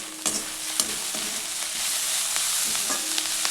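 Flat beans sizzle steadily in a pan while a utensil stirs and scrapes through them, with a few sharp clinks against the metal; no talking.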